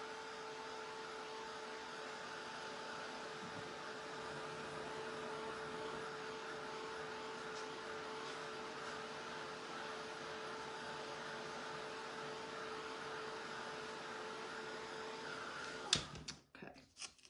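A hair dryer blows air to dry a coat of paint on a Santa-in-a-chimney craft, a steady close whir holding for about sixteen seconds before it clicks off and a few handling knocks follow.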